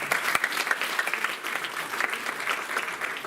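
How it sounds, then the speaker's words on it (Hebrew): An audience claps together in steady, dense applause, a continuous patter of many hands at fairly close range that holds at an even level throughout, with no talking over it. "ולכם מגיע על זה מחיאות כפיים"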